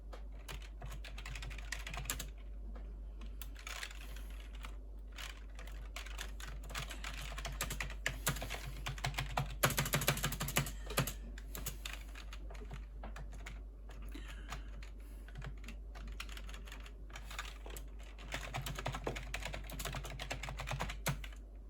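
Steady typing on a computer keyboard while a message is written in Notepad on an old DOS-era PC, keys clattering continuously and fairly close for about twenty seconds, with a few louder bursts and no talking.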